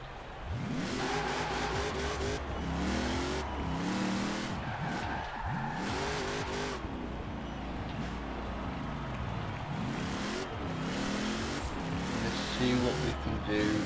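Tractor engine revving in Forza Horizon 4, a steady loud drone rising and falling in pitch with tire noise, continuous throughout while a person talks over it.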